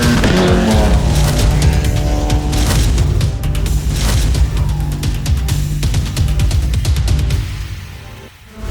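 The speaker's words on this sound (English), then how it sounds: "gonna race some Formula 4 cars" Formula 4 single-seater race cars howl past on a private track outside Phoenix, engines loud and continuous with rising and falling revs, gear changes and brief tire squeal, the roar easing away near the end.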